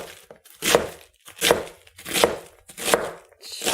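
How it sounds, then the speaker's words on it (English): A knife chops through one head of cabbage on a cutting board for sauerkraut, about six crisp crunching strokes at a steady unhurried pace, close and clear with no talking. "I'm going to finish chopping up the cabbage"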